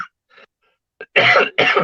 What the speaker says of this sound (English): This is not a COVID cough. It's just a cold.